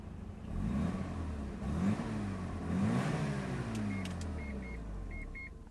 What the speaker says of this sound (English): the RX-7s, you can really tell the way that the condition of the engine is audible in the exhaust